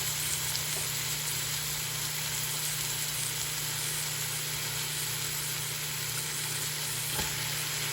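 Onions and celery sauté in a pot as the base for a vegetable stock, giving a steady, even sizzle with no voices over a low, constant background hum.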